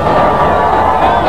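Loud cricket crowd roaring and cheering after a fast bowler takes a wicket, a dense sustained wall of stadium noise.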